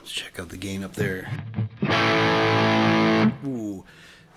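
Electric guitar played through a Havok FO-2 FET overdrive pedal with the gain at 3 o'clock, giving a loud, thick distorted sustained chord after short picked notes, with talking before and after.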